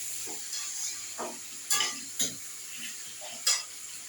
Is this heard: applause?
no